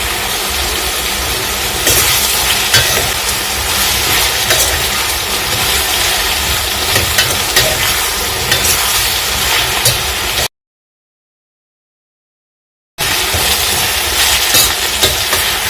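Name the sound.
eggplant slices frying in a pan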